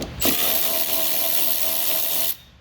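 A close, loud power driver whirs steadily for about two seconds, backing T20 Torx screws out of the rear lamp housing on a 2017-2022 Ford F250/F350/F450 truck, then cuts off abruptly.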